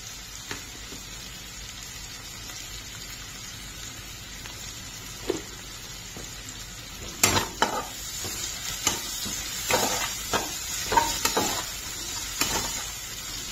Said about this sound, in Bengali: পেঁয়াজটা একটুখানি ভালো মতো করে ভাজা হয়ে যাবে